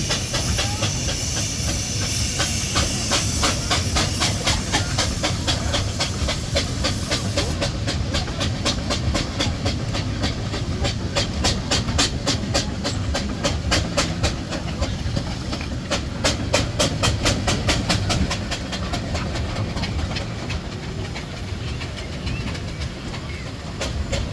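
Steam road locomotives in a rally parade give a steady loud hiss with rhythmic chuffing and clanking running throughout, one engine based on a road locomotive towing a trailer, with no talk.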